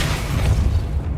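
A Depulso spell blast in Hogwarts Legacy lands as a single deep, rumbling boom with a bright whooshing top that fades over about a second, heard alone and close.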